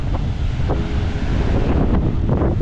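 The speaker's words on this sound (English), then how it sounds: "Windy, as you can hear." Loud, constant wind battering the microphone on an Eastern Cape beach, a deep roaring rumble with a few faint higher sounds mixed in.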